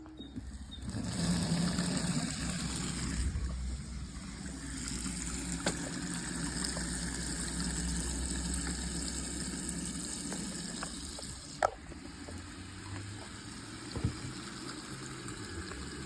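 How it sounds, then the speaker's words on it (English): Bucket being filled with water and soap for cleaning a BMW E36 engine bay: a steady running-water rush from a tap for most of the clip, fairly quiet, with a couple of brief knocks near the end. "We fill that bucket up with water and soap and just get cleaning."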